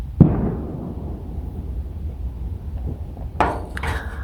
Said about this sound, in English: I can hear fireworks, but I can't see them anyway.